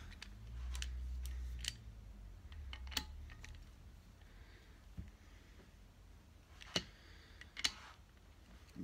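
Torque wrench tightening the connecting rod bolts on a BSA A70L Lightning engine crank, giving a few sharp close clicks and ticks spread over quiet workshop background, with a low rumble early on.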